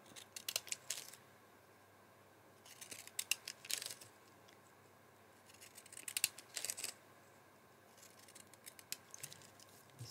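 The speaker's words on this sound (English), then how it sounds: "when I put my scissors on, they're cutting the same pattern and the scallops are lined up." Scissors snip along the scalloped edge of a recycled Christmas card in several quiet bursts of crisp, rapid cuts separated by pauses.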